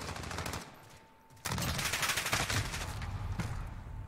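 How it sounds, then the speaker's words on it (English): A submachine gun in a first-person shooter fires rapid automatic bursts, loud and close, with a brief pause before a longer sustained stream of shots and no speech over it. "you can just switch back and forth to this long-range or this up-close submachine gun"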